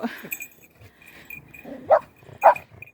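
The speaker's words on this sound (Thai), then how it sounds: "เออไปเห่าเขาทำไม" A dog barks twice, sharp and fairly close, outdoors on a hillside trip, with quiet background between the barks.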